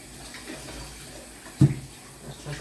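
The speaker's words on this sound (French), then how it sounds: "Je vais laver la spatule." Running water from a tap rinses a spatula during home cooking of corn and cassava-flour galettes, a soft steady wash with one brief knock partway through.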